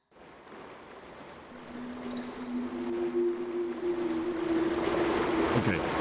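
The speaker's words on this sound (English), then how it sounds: "Okay, it's a little waterfall." A small waterfall in a sewer in the game Hellnight, a steady rushing splash that swells gradually louder over a few seconds, with a faint low tone running underneath.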